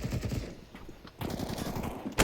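Rapid AK rifle fire in a Counter-Strike match on Vertigo, loud dense bursts of automatic shots, a short pause, then another sustained burst and a final sharp shot.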